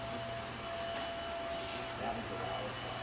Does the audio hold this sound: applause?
no